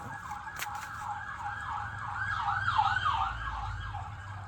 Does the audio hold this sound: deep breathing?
no